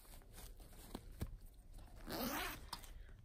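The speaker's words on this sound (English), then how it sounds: "Nice zipper." A zipper is drawn along a small Stone Mountain crossbody wristlet bag from Ross: a few soft ticks, then a brief rasping pull, heard up close and quiet with no talk.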